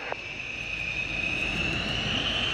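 An aircraft taking off from Fairford airfield gives a loud, steady, continuous roar with a high whine that slowly rises in pitch. It is heard alone, with no talk.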